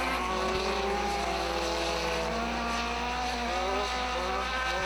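Front-wheel-drive race cars roar around a dirt speedway at Hattiesburg, with loud sustained engine drone and shifting pitch as several cars run nose to tail, continuous and close.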